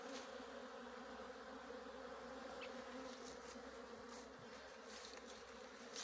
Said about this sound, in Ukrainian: Ось бджоли так літають.